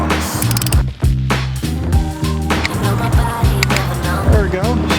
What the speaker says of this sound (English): And we'll torque them to 45 foot-pounds.